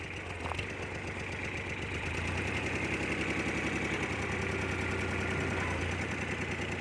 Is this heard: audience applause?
no